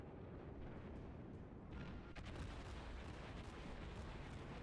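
Warship guns fire in World of Warships, a dense low rumble of distant booming salvos with a sharper report midway, faint and continuous under battle noise, no voices.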